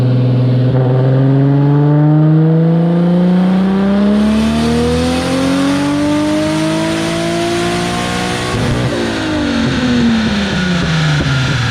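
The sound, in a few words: Lexus IS300 1JZ turbo engine revving on dyno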